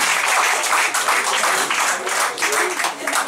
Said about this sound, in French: Je voudrais qu'on acclame puissamment encore le Seigneur pour ce qu'il vient de dire.